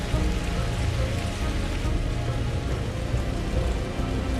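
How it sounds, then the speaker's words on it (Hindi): Steady heavy rain pours down as a continuous, dense hiss of drops striking surfaces, loud and unbroken throughout, used as a sound effect in a winter horror story, with no voices. "पहले से बारिश थोड़ी कम हो चुकी थी"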